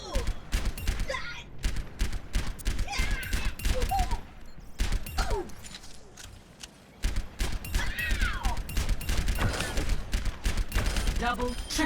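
Soldier 76 rifle fire in the Overwatch video game during an aim warm-up routine, short rapid bursts and single shots in quick succession, loud and continuous throughout the clip.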